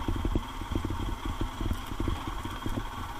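A Royal Enfield Himalayan BS6 motorcycle climbs uphill over large rocks, its single-cylinder engine thumping in a steady rapid pulse close to the microphone, with wind noise and no voices.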